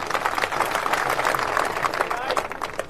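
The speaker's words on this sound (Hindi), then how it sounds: "तालियां बजा दे जरा" Crowd applause at a political rally and election office opening, dense steady clapping from many hands, close and loud throughout, with a voice speaking over it.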